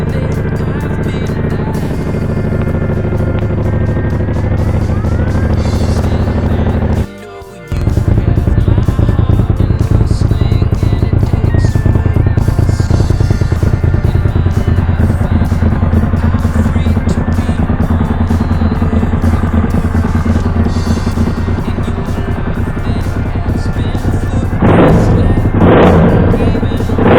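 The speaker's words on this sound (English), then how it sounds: "Engine's running sweet as a nut." A Suzuki SV650 motorcycle engine idles steadily and loudly close by, a low continuous rumble with a brief cutout early on and a short rev near the end.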